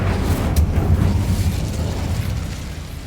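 Incendio fire spell cast in the video game Hogwarts Legacy, a loud burst with a crackling pop that eases into a roaring, fading whoosh.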